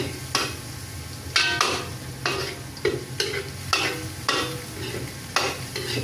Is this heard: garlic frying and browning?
yes